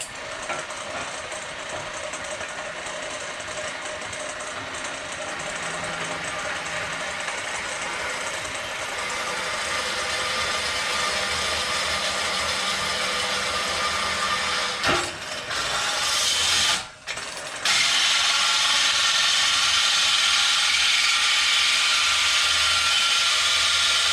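A battery-powered auger drills into 1/8 inch steel with a continuous loud grinding, whirring drone that holds steady for about twenty seconds, briefly stutters near the end, then resumes without any voices.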